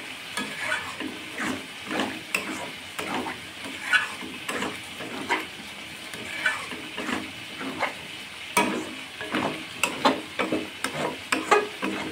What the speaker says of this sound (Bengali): এই দেখো এটা পুরো কষানো চলছে।